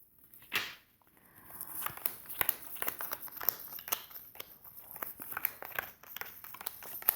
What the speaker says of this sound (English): I'm going to shuffle, cut, and place cards for each 12 months